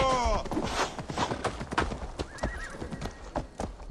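In Assassin's Creed Valhalla, a horse clip-clops along at pace with rhythmic hoofbeats and gives a sharp neigh near the start. A voice speaks underneath.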